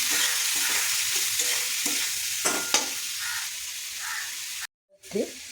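Onion and prawns frying in a pan of hot oil, a steady close sizzle with intermittent scraping as they are stirred, ending in a brief gap and a final clatter.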